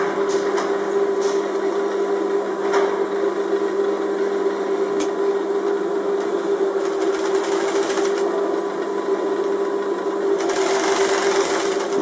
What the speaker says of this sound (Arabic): من هنا غادي نبدا الخياطة